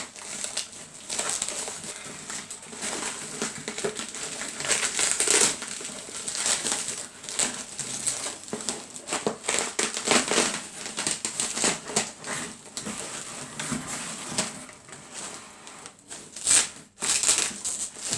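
Taped young fruit plants, Surinam cherry, Che and lilly pilly among them, are pulled from their packaging with continuous close crinkling, crushing and tearing of tape and plastic at a fairly even level throughout.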